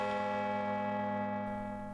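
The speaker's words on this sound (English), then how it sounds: "Bells rang out from churches around the land." Church bells ring out from a church across Scotland on a day of national mourning, a steady sustained tolling with a rich resonant hum that lingers and slowly fades, heard at moderate distance with no voices.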